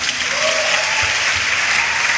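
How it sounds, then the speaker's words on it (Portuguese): A church congregation claps in dense, steady applause at a youth service, continuous and fairly loud, with no voices standing out. "Vamos aplaudir essa turma, vamos lá?"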